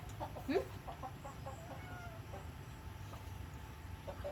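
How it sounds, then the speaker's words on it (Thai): A chicken clucks a few times in a rural Thai farm setting, one louder call early on, over a steady low rumbling background with faint other noises. "ไก่"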